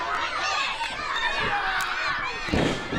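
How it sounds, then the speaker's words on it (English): Crowd at the Hanford Kids Fest cheering and shouting during a lucha wrestling match, a dense, loud wash of children's and adults' voices that swells near the end. "Kevin Ducqets getting the crowd here at the Hanford Kids Fest behind Hollow Point."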